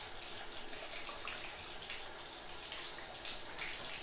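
Water flushing through a boiler heating zone for one apartment, pushing air bubbles out of the system; a steady, faint rushing and hissing flow with light gurgling, continuous and fairly quiet.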